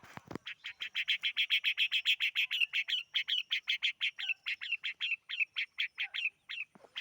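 A mother bird at her nest gives a long, rapid series of evenly spaced sharp chirps, loud and close, repeating steadily for several seconds without pause.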